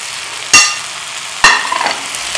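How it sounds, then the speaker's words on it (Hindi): Fried okra tipped into spiced masala with salt and chilli on a high flame, two sharp bursts of loud sizzling a second apart, each hissing on and fading into a steady fry. "और अब हमने इसमें फ्लेम थोड़ा तेज़ करके ना जो भिंडियाँ फ्राई करके रखी थी उसको डाल दें।"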